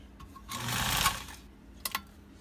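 A heavy-duty sewing machine stitches through nine layers of fabric in one loud, continuous whirring burst of about a second, then a couple of short clicks follow as it slows and stops.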